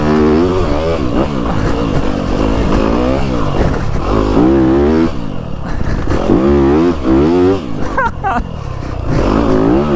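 A 2025 Yamaha YZ250FX dirt bike engine revs loud and close, its pitch sweeping up and down in repeated throttle blips with a rough, clattering edge between bursts.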